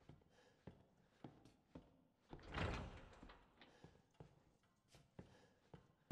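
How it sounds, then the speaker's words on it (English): A door shuts in Resident Evil 7, with a heavy scraping thud in the middle amid several dull knocks and footstep-like thumps in a quiet, echoing interior. "Y'all want to shut this door?"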